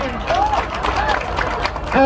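Audience applause and crowd noise at a May Day 2022 International Labour Day gathering: steady, dense clapping fills the clip, with voices and crowd chatter mixed in throughout.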